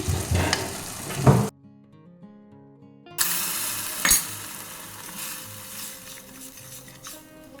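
A yogurt and gram flour mixture and then water hit a hot pan to make curd bhindi, giving a loud sizzle, a sudden cut to near-silence, then more sizzling and stirring with a sharp splash-like burst, no talking.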